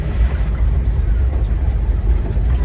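Street traffic rolling through Kibera slum in Kenya, a continuous low rumble of passing vehicles heard close, with no distinct horns or voices standing out.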